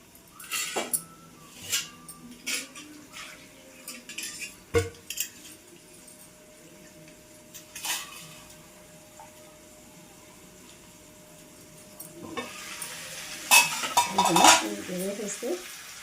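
Pot lid and utensils clank sporadically in a home kitchen while cooking taro tamarind stew (chamagadda pulusu). A few sharp metallic knocks are followed by a hissing, bubbling rush near the end as tamarind juice goes in.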